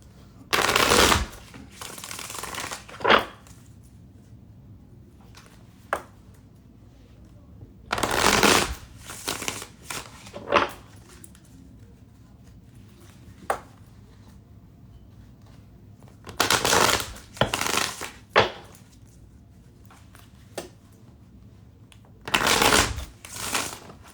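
Tarot-style cards are shuffled in repeated bursts, each a loud riffling flutter lasting a second or two, separated by quiet gaps and a few softer taps.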